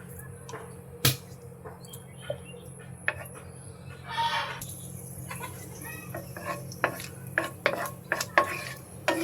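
Ghee is stirred in a pan while a papaya dessert cooks: scattered metallic scrapes and clinks of a spoon against the pan come in irregular bursts, with fowl-like clucks in the background and no clear talking.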